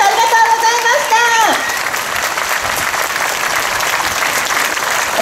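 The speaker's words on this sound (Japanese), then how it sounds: "もう一度大きな拍手をお願いします" Audience applause at an anti-nuclear rally, a broad sustained clapping from a large crowd, with a voice speaking over the first second or so before the clapping continues alone.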